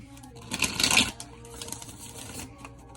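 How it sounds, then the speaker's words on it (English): A deck of tarot cards being shuffled close by, a quick rippling burst of flicking cards that fades into quieter handling with faint background voices. "let me get a good shuffle"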